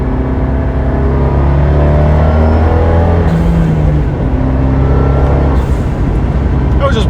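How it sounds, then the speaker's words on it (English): A turbocharged Fiat 124 Spider engine pulling at wide open throttle, a sustained loud drone with rising engine pitch and heavy road and wind rumble, recorded close from inside the car. "do some wide open throttle pulls"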